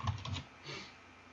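Brief burst of computer keyboard typing, a few quick keystrokes close by in the first half-second, then quiet room tone.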